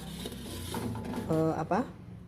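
Crispy fried spiced beef lung tumbles out onto a pan or plate with clattering, rattling kitchen sounds, under a person talking throughout.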